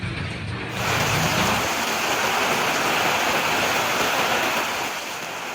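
Heavy afternoon rain driven by strong wind in Kotabumi and Metro Lampung, Indonesia, a loud continuous roaring wash that swells after a quieter start and holds steady throughout.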